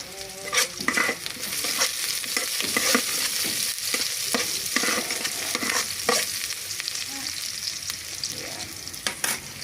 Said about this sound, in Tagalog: Tapos yan, nagmigisa na natin. Yan. Sibuyas, bawang.